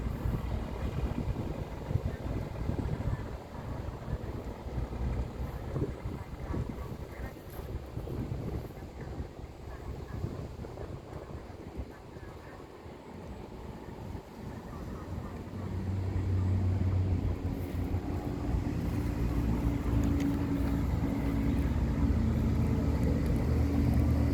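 A motorboat on a river, passing near a bridge among towing boats, makes a low, continuous engine rumble with wind noise, which grows louder and fuller toward the end as the boat draws closer.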